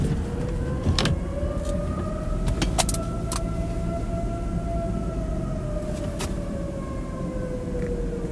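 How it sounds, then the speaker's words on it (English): Tornado sirens wail during a winter lake-effect storm in Sherman, New York, a long steady rising and falling tone heard from a distance over constant traffic and wind noise, with a few brief clicks and knocks nearby. "There's like tornado sirens going off in Sherman, New York during this winter storm."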